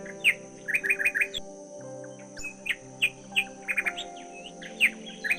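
Parrots in a forest tree chirp and sing in quick repeated bursts of bright calls, with a steady soft background drone underneath and no voices.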